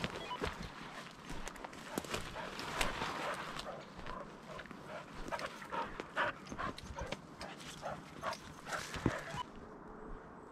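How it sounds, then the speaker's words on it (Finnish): Hunting dogs on a pigeon hunt crash and scramble through brush and vegetation at close range, with rustling, quick footfalls and occasional panting in an irregular rhythm, no talking. "Nyt on 2 koiraa noudossa."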